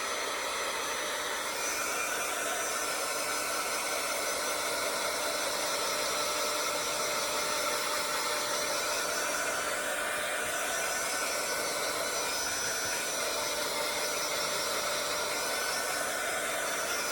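A hair dryer blows continuously and steadily up close, drying off a wet leaf craft piece, a smooth unbroken whoosh with no voices.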